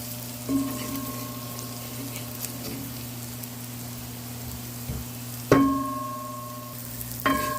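A spoon stirs curry chicken with string beans in a pot over a soft, steady low sizzle, with a few sharp metallic knocks against the pot near the end.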